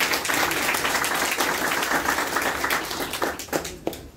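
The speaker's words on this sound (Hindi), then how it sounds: "जोरदार तालियों से स्वागत करें।" Applause from an audience at a retirement celebration, a dense sustained clatter of many hands clapping at close range for about four seconds, thinning toward the end.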